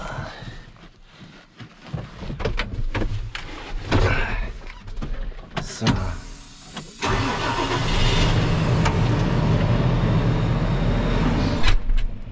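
A farm vehicle hauling straw on a cattle farm cranks and fires up, its engine roaring up to a loud, steady drone as it starts to pull forward, with no speech over it.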